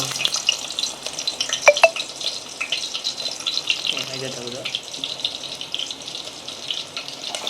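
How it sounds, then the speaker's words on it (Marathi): Onion tempering sizzles in hot oil for a village-style chicken sukka, a steady close frying hiss with stirring scrapes and a brief splash of running water. "चला फोडणी टाकूया पटापटा टाकूया कांदो"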